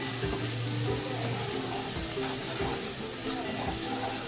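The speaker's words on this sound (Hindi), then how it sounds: "बिस्मिल्लाह, अब इसको 1 सेकंड के लिए भूनेंगे इस तरह से।" Ground spices, garam masala, coriander powder and black pepper with salt, frying briefly in a pan for egg malai curry, giving a dense steady sizzle with light stirring scrapes throughout.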